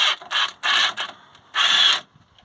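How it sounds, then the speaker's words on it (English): A socket wrench winds out a bolt during coil spring work on a Peugeot 308, with three or four bursts of close, rapid ratchet clicking separated by brief pauses. "I'll wind that out a bit. Got a strong socket now."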